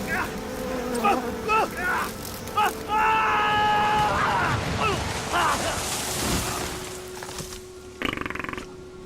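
Grasshoppers buzz in the forest of the horror game Outlast 2: a cluster of rapid, raspy chirring bursts comes and goes over a droning backdrop, with groaning game sounds and rustling mixed in.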